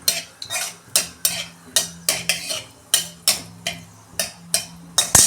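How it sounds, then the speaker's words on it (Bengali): Dried chilies and black cumin fry in a pan, with a spoon scraping and stirring in quick regular strokes over a soft sizzle, close and alone. "এই লঙ্কাটা ভেজে নেবে।"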